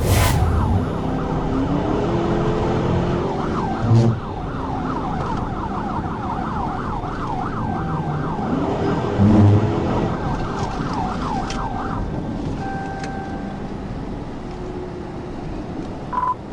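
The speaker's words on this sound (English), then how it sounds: "He activated his emergency lights and siren and initiated pursuit of the vehicle." A police siren wails in rapid, repeated sweeping cycles, loud and close, over the steady rumble of a police car in pursuit.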